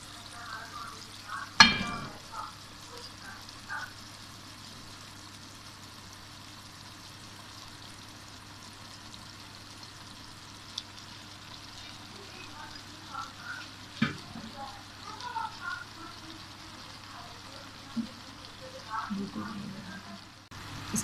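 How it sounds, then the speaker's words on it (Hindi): Boiled rice tumbles into a pot of chicken veg biryani and is stirred, with a soft steady sizzle, a sharp clatter early on and scattered scraping taps later, all fairly quiet. "इसके बाद हम इसमें डाल देते हैं चावल आधा किलो मैंने लिए थे"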